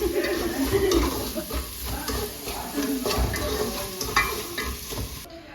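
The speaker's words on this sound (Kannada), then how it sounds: "ನಮ್ಮ ಅಮ್ಮ ಇವಾಗ ಬಂದು ಚಿಕನ್ ತೊಳೆದು ಅಲ್ಲಾಡಿಸ್ತಾ ಇದೆ" Washed chicken pieces stirred in a cooking pot for home-style chicken curry, a steady close scraping and sloshing with a faint sizzle running throughout, with no talking.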